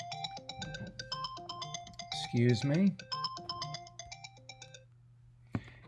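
A phone rings during a call with a bright, repeating electronic melody of tonal chimes, loud and close, continuing for several seconds while someone briefly speaks over it.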